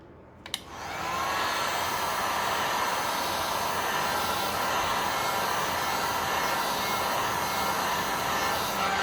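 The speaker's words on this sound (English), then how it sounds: "Bit of the heat gun." A heat gun switches on with a click and then blows a steady, loud, hissing whoosh over resin coasters. The rush of air runs continuously and alone, with no talk.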